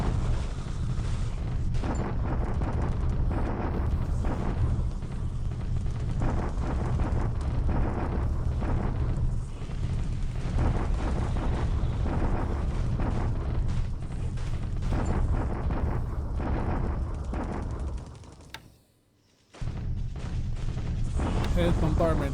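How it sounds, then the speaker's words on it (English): Bombardment explosions in a World War II strategy game arrive as a dense, continuous barrage of deep booms and rumbling blasts, with a brief drop to near silence before the pounding resumes. "another bombardment here."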